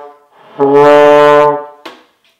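A single trombone note begun without tonguing: it swells in softly instead of starting cleanly, holds for about a second, then fades, followed by a brief breathy blip; close and solo.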